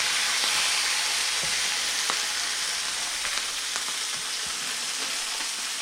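A huge 18 kg salmon sizzles on a George Foreman grill with a dense, constant hiss, dotted with occasional small pops and crackles heard up close.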